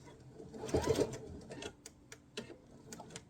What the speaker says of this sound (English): you're just going to sew all the way to the end